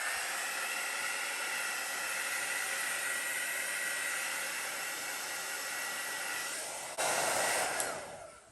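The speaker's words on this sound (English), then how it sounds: "I'll hit them with the heat tool," A heat tool blows steadily over wet acrylic fluid paint on a silver base. It gives a loud, close, continuous hairdryer-like roar that shifts and surges briefly near the end. No one speaks.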